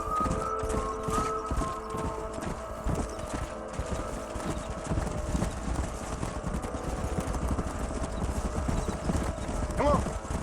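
Horses' hooves clip-clop steadily and close in Red Dead Redemption, a continuous rhythmic clatter with a brief whinny near the end, over ambient game sound.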